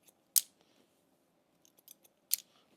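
Scissors cut a man's mid-length hair in a classic cut, with two crisp, loud snips a couple of seconds apart and a few quieter clicks between them, close and with no talk.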